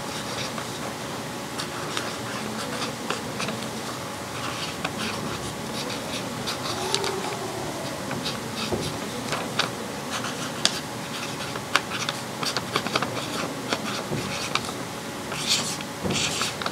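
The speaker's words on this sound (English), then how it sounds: "I'm just gonna draw real quick so you can see the color of them" A chisel-tip marker scratches across paper in short repeated strokes, close and fairly steady, over a faint background hum.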